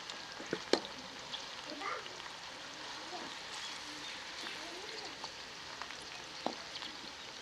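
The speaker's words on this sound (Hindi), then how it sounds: "प्याज को सुनहरा होने तक पकाएंगे।" Finely chopped onions frying in hot oil until golden make a faint, steady low sizzle, with a few scattered clicks and light taps from stirring.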